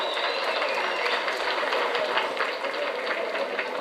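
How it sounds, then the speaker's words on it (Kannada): Loud, sustained applause from a crowd at a Yakshadhruva Patla Sambhrama 2018 closing ceremony, welcoming an honoured student, a dense, even roar of clapping that fills the whole stretch without a break. "ಜೋರಾದ ಚಪ್ಪಾಳೆಯ ಮೂಲಕ"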